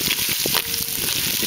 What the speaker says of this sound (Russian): Теперь будет пережариваться сало с луком